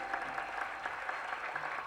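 Audience applause at the Sahyog Foundation awards ceremony, a steady dense wash of clapping from a large hall crowd, moderately loud and continuous with no voices over it.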